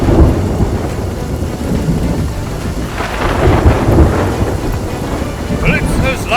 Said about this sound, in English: Calypso's lightning cracked the spire